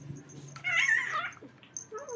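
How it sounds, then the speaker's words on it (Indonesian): A cat meows once, fairly close and moderately loud, in a quiet room, with faint household noise before and after. "Aduh, ini kucing."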